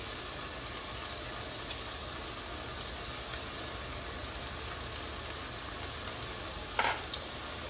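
A large batch of spinach cooks in a pot for meatless efo riro, giving a soft, steady sizzle and hiss with faint stirring throughout.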